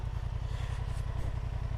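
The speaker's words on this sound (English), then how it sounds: "As you hear the fan doing its job" Steady low whirring drone of a motorcycle engine's cooling fan running hard with the engine at 103 Celsius on a dirt road, continuous and close with no talk over it.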